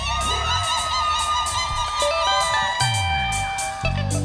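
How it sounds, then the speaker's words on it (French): A worship crowd at a gospel night cheers and shouts with joy, loud and close, with whoops and high children's voices rising over steady rhythmic music throughout. "Des cris de joie encore."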